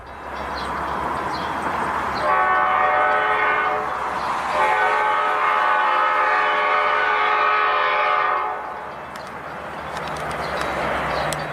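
An oncoming train sounds its horn in two long, loud, sustained blasts over the rumble of rail traffic, then the horn stops and only the train noise carries on.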